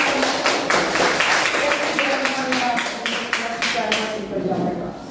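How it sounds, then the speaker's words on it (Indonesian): Classmates in a school classroom applaud together, a steady run of many hands clapping close by that keeps going for several seconds, with some murmured talk underneath. "Oke, silakan tepuk tangan teman-teman."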